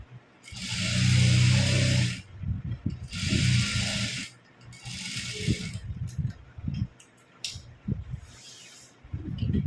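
A sewing machine stitches a puff sleeve, its motor running in several bursts of steady mechanical whirring separated by short pauses, close and fairly loud with no talk.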